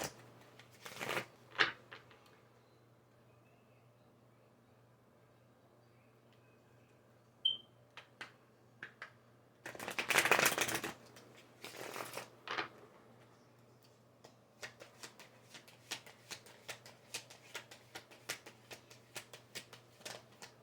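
Tarot cards are shuffled by hand in a quiet room, giving faint, soft riffles and brief papery bursts, with one louder shuffle midway and scattered light ticks and taps after it.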